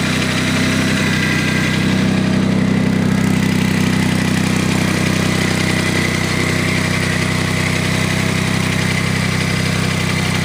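A Honda HT3813 lawn tractor engine idles while warming up, a loud, steady, close mechanical hum with constant vibration that holds unchanged for about ten seconds, with no talking.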